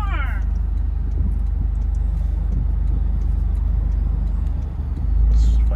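A 2024 Toyota Corolla GR with a manual transmission is driven in second gear, its engine droning steadily close by throughout. Faint ticking sits over the drone, a rise comes near the end, and people talk over it.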